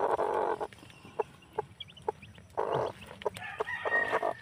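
A young brooding hen clucks and calls close by in short bursts, with a few sharp single clucks between louder, longer squawks and faint bird chirps behind.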